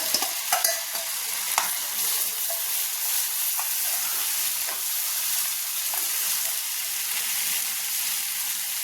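Two medium-sized onions sautéing in a pan for a Kerala jackfruit masala, a steady close sizzle and hiss running throughout with occasional scraping stirs, no talking.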